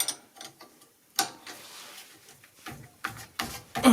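A bolt on a car brake assembly being tightened with a ratchet, giving irregular clicking and metallic mechanical bursts close by, with no talking.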